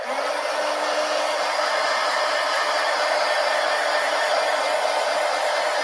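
A dryer blows hot air over paint on a mixed-media art journal page, a loud, unbroken whoosh that holds steady throughout with no voices.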